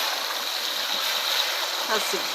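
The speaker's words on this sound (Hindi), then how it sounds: "अब हम लगाएंगे पानी" Water is poured into a cooking pot of lentils, a steady close trickle and splash filling the short moment.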